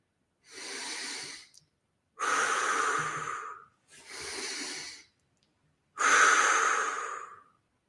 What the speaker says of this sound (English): Big deep breath in through the nose and out of the mouth.